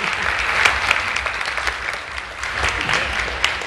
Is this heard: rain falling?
no